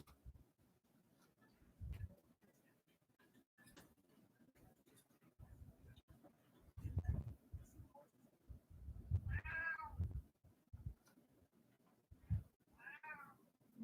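Cat meowing several times in an indoor room, a couple of clear, fairly close meows standing out over low thumps and rustling, with no talk.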